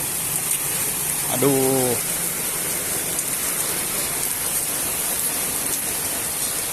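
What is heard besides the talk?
rain falling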